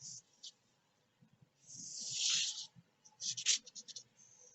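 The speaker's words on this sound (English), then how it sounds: "I would just give it a quick trace" Tracing a bonnet pattern onto fabric: soft scratchy strokes of a marker or pencil across cloth, a few short swipes and one longer drag, quiet and close.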